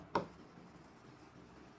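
A single short, close scratch of writing on a board during a maths lesson, one quick stroke followed by quiet room tone.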